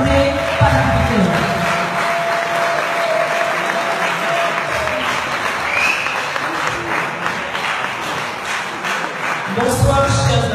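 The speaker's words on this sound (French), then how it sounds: "faire un tonnerre d'applaudissements pour la magnifique Blandine Diafoutoua" An audience applauds Blandine Diafoutoua, president of pan-African sovereignty, at a political gathering: sustained, dense clapping from a sizable crowd, loud and steady for about ten seconds, with a voice over it at the start and end.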